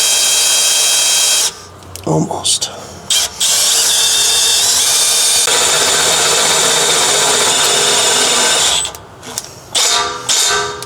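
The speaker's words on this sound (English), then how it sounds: "I'm gonna go ahead and drill it right here." A right angle drill attachment fitted with a step bit whirs loudly as it drills a hole, running in several bursts with short pauses between them and ending in longer continuous runs. Someone speaks briefly between the bursts.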